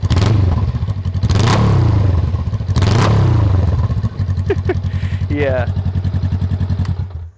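A Honda Rebel motorcycle with a Shorty GP exhaust revs close up in a loud burst of throttle blips and rattles, then settles into a choppy, pulsing idle, with a brief word spoken.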